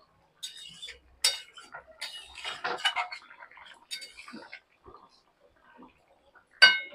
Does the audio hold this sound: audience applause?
no